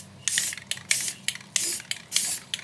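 A rifle is spray painted in quick repeated bursts, about six short hissing sprays separated by brief pauses, close and fairly loud, with no talking.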